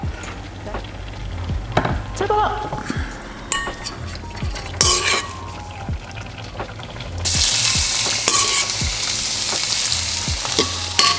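Vegetables stirred in a hot frying pan for a vegetarian meal prep, with a crackling sizzle and repeated spoon clanks against the pan, close and loud, and the sizzle swells sharply as more food goes in.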